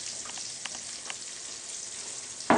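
Eggplant slices fry in hot oil in a pan, giving a steady close crackling sizzle that ends with a sharp louder clatter.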